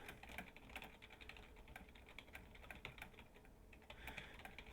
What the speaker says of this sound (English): let's type in some general text